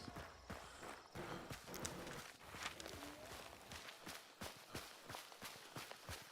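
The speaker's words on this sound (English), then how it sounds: "I heard a horse." Steady hoofbeats clip-clop along at a walking pace, a string of sharp, regular knocks over a busy background of game ambience.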